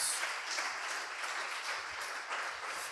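A church congregation gives a round of applause as an offering to God, a thick, continuous crowd clapping that stays steady and fairly loud for the whole stretch, with no speech over it.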